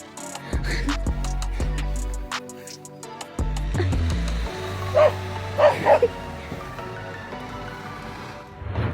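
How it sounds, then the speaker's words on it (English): A dog barks back at a recording of a puppy barking, giving close, loud barks in short bursts, with higher yips and whimpers mixed in. "She showed her dog a video of the pup barking, and this was its response."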